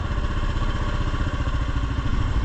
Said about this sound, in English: If you listen to the idle, say I go to 2 and the idle goes up probably 100, 200 RPM